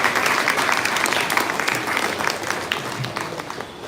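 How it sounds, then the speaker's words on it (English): An audience claps steadily throughout, a dense, loud wash of applause that tapers slightly toward the end. "Please welcome him with a big round of applause."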